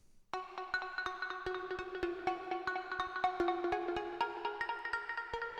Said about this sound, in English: the weirdness of that sound is actually coming from this LFO that's just controlling the sync of this square wave